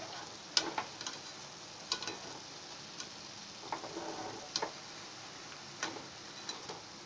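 Gulab jamun fry in hot oil in a home kitchen, a faint steady sizzle broken by soft irregular ticks and clinks of a spoon stirring, close and quiet without talk.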